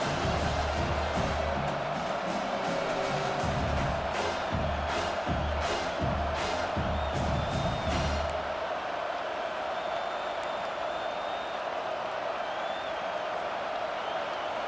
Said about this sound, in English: Here comes this home crowd